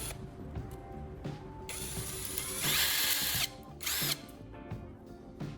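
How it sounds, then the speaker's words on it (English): A power drill whirs as it bores a connector-sized hole in the center of a stainless steel strainer, rising in pitch with short bursts and pauses, close and fairly loud. "I drill a hole that fits the connector perfectly"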